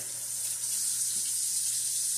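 Tap water runs steadily into a sink, switched over to hot, making a constant close hiss with no pauses or talk.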